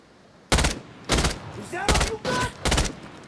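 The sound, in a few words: gunfire from an enemy shooting at the player in a video game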